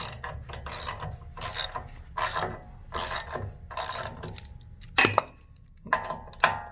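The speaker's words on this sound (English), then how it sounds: "I got a deep well socket on it." Ratchet wrench with a deep well socket, clicking in close, repeated bursts of rapid pawl ticks with short pauses between strokes, about eight rounds and no talk.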